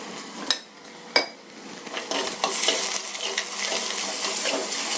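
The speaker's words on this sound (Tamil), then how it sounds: "இப்போ வெங்காயம் பாதி வதங்கிடுச்சு" Onions fry in a pan with salt, a soft steady sizzle broken by a couple of sharp metal clinks of the spoon and then brisk stirring scrapes.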